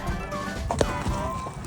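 A spooked horse takes off running in Cappadocia, Turkey, its hooves clopping in a quick, uneven rhythm at moderate distance amid outdoor noise and faint voices.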